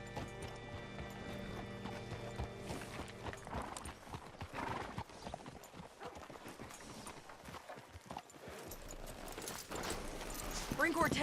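Horse hooves clip-clop over a busy mix of sounds and voices in the video game Red Dead Redemption 2, with a horse whinnying amid the steady plodding.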